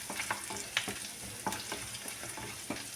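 Urad dal, cumin seeds and finely chopped garlic frying in hot oil: soft, close crackling and sizzling with frequent small pops and a few stirring taps, fairly quiet overall.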